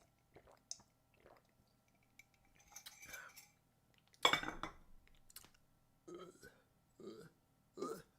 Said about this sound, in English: I have a burp.